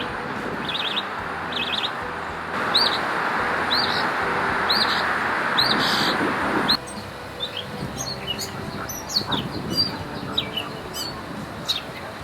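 Birds chirping in New York City, with repeated short high tweets and calls over steady outdoor city noise, moderately close and fairly clear, without talk.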